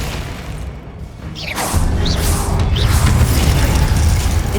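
A Glacius ice spell is cast in Hogwarts Legacy, heard as a sudden whooshing magical burst that swells into a loud, sustained crackling rush with scattered sharp glints and mechanical clatter.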